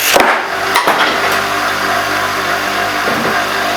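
A big polishing buff mop spinning up on a bench motor, used with polishing compound on resin and wood ring work; a steady motor whir runs loud throughout, with a few sharp knocks near the start.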